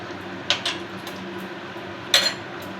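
A spoon stirs a pot of dhokar dalna after ghee and garam masala go in, producing two quick metallic clinks early on and a louder scraping clatter later over a low simmering hiss.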